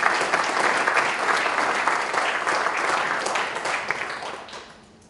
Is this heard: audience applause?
yes